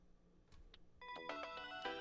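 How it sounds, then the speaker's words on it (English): A phone ringtone plays in the Steins;Gate 0 visual novel game, a bright electronic melody that starts after a second of quiet game sound and holds steady, clear and fairly close. "My phone started ringing."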